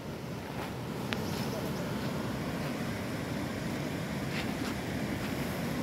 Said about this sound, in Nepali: खोला बिचबाट बग्दैछ